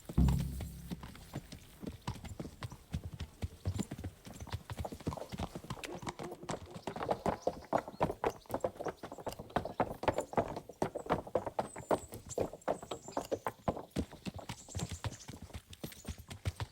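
Horse hooves clip-clop steadily on a hard road in the medieval video game Kingdom Come: Deliverance, a continuous trotting rhythm with light thuds, layered over outdoor ambience and occasional tack rattles.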